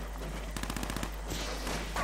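Gunfire in the video game Fallout 76: a rapid burst of about a dozen close, evenly spaced shots over a steady background hum, followed by a softer rumble.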